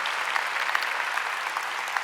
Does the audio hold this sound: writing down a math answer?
no